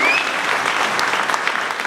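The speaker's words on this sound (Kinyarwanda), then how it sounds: "Dukomere Imana amashyi yo kubyakira" A church congregation applauding at a gospel service, a dense burst of close, lively clapping that holds steady throughout, with no voices over it.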